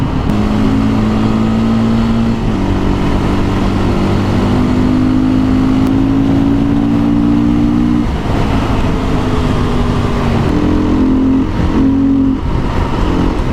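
A Beta 500 dirt bike engine runs out of fuel, its loud steady drone rising and falling in pitch, then stumbling and sagging as the fuel runs dry, with near, continuous engine noise throughout.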